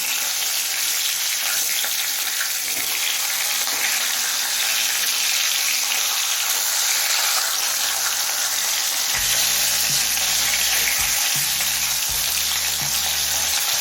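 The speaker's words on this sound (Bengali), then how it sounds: "মাছের মাথা খুব বেশি ভাজার দরকার নেই হালকা করে ভেজে নিলেই হবে" Steady, dense crackling sizzle of hilsa fish heads lightly frying in hot oil, close and continuous, with a few low clunks of a utensil near the end.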